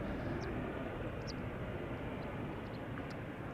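A fixed-wing airliner on approach to land at Amsterdam Schiphol Airport, a steady broadband engine roar held at constant loudness with no talk.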